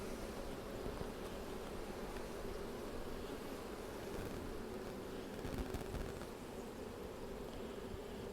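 Honey bees crawling over open hive comb make a soft, continuous low buzzing hum at close range, steady and quiet with a faint rustle and no talk.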